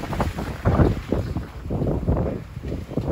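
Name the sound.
wind blowing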